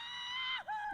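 A sustained high scream from a played video holds for about half a second, dips briefly, then resumes, loud and alone.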